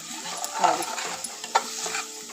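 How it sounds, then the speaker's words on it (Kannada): Ginger garlic paste and tomato masala frying in a pan, a soft, fairly quiet sizzle with a few scraping stirs of a spoon, no voices. "ಇದನ್ನು ಚೆನ್ನಾಗಿ ಮಿಕ್ಸ್ ಮಾಡ್ಕೊಳ್ಳೋಣ"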